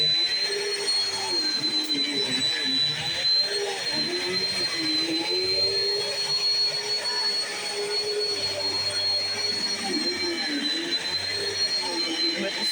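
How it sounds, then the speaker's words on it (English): A Bissell Cleanview Swivel Pet 2252 upright vacuum cleaner runs steadily throughout, a close, continuous whine with a constant motor hum and slight fluctuations as it moves across the floor. "Today we're going to be doing a review on the Bissell Cleanview Swivel Pet"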